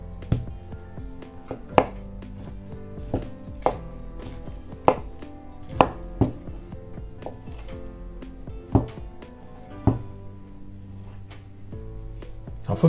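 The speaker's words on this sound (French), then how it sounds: "Maintenant, on va hacher la viande. Alors pareil, on peut le faire ou au hachoir ou à la main." A knife chops meat by hand on a board for pierogi filling, with sharp, fairly evenly spaced cuts about every second, close and clear over a steady low kitchen hum.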